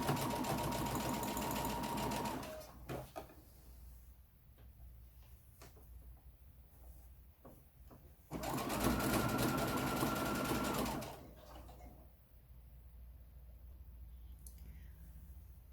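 A sewing machine hemming a stretch fabric top runs in two bursts of rapid, steady stitching, separated by quieter stretches of clicks and small handling sounds.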